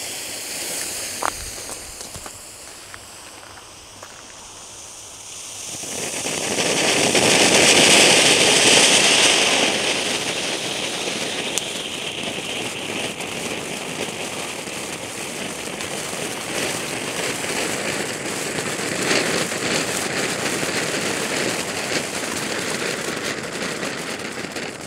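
Norma firework volcano fountains burn on New Year's Eve, a loud steady hissing and crackling spray that swells after a few seconds and then roars on continuously, with scattered pops throughout.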